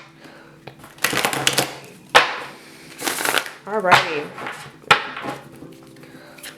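Tarot cards are shuffled by hand in several quick riffling bursts separated by short pauses, close and fairly loud, with a brief spoken word in between.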